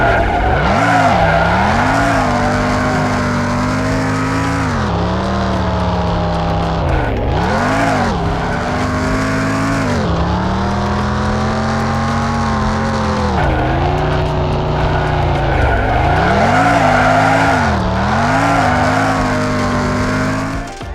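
A car drifting in an Android driving game, its engine droning loudly throughout with revving pitch swings and sustained tire squeal as it slides, no voices.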